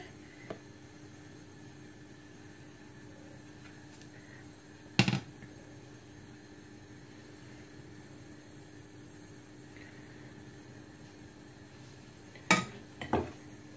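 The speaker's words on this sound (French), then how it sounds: "Là toujours je vais mettre 2 cuillères de louche." Two brief metallic clinks of a ladle against a pan as chocolate sponge batter is ladled in for a génoise cooked without an oven, separated by long near-silence with a faint steady hiss.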